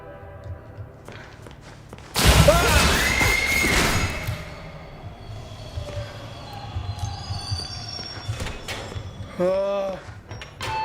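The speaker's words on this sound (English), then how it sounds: "Now I just need to wait for the train." A video-game train arrives with a loud rushing burst, followed by rumbling, hissing and a rising, wavering whistle-like tone near the end.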